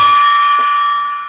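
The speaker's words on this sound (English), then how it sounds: "when that gong showed up" A single gong stroke, played to mark a milestone of thumbs-up reactions during a live stream, rings out loud and bright with a steady shimmering tone that slowly fades.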